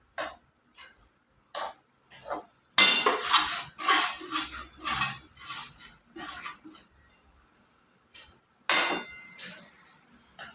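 A spoon crushing sugar lumps in a pan: irregular clacking taps and scraping bursts of metal on metal, some short isolated knocks and a denser stretch of rapid scraping, close and moderately loud, no voices.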